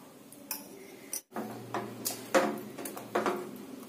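Milk powder and ghee being stirred in a pan for khoya, heard as scattered close clinks and scrapes of a utensil against metal with a brief pause, fairly quiet and without speech.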